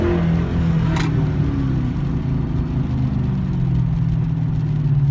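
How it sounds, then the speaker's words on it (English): Car exhaust fitted with a Pedal Commander throttle controller, a deep steady engine drone that swells slightly in a rev near the start and holds loud and close throughout, with no voices. "I don't know if you could hear my exhaust,"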